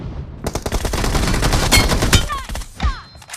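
Video game gunfire: loud, close automatic bursts and rapid shots that run almost continuously before breaking into a few scattered final shots.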